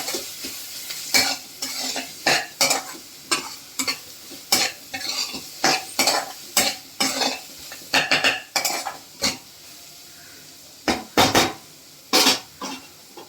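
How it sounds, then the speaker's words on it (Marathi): Turmeric and black masala sautéing in hot oil for an onion-tomato chutney, with a spoon scraping and stirring the pan in a steady run of clinking strokes over a soft sizzle, close and fairly loud. "तो पण आपण छान तेलावरती परतून घ्यायचा आहे."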